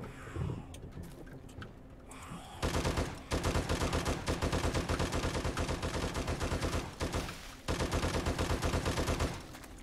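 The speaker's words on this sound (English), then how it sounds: "He's shooting holes everywhere trying to find the hole." Sustained rapid automatic gunfire in the video game 7 Days to Die, shot into a building, pounds on in long loud bursts with brief pauses between them.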